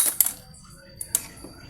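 Scissors snipping off excess fishing line on a float rig for carp fishing, giving a few crisp, close metallic clicks separated by quiet pauses.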